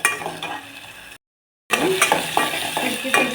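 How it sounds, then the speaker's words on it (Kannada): Chopped tomatoes fry with a steady sizzle in a pan while a utensil stirs and scrapes, clinking against the metal, with a short silent gap partway through. "ಈಗ ಟೊಮೆಟೊನ ಚೆನ್ನಾಗಿ ಫ್ರೈ ಮಾಡ್ಕೊತಾ ಇದ್ದೀವಿ ನೋಡಿ"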